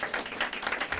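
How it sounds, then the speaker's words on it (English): An audience at a press conference for a financial empowerment center gives brief applause, a dense wash of clapping heard at moderate distance. "So can we get a round of applause for that?"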